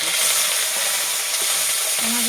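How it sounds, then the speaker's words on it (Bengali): Tomato frying with garlic, cumin paste and ginger paste in hot oil, a loud, dense, continuous sizzle up close with faint stirring underneath. "এটা আমি বেশ একটু ভেজে নেবো।"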